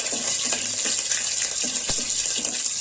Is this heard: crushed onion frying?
yes